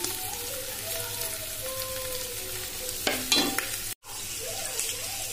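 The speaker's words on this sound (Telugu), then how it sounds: "ఇది కొద్దిగా ఫ్రై అయ్యింది" Veg manchurian with ginger garlic paste frying in a pan gives a steady close sizzle, broken by a short stirring clatter and a brief dropout before the hiss resumes.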